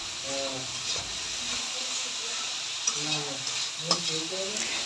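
Onions frying lightly in a pan alongside a whole green chilli, a steady close sizzle with soft stirring scrapes, while a voice talks over it throughout.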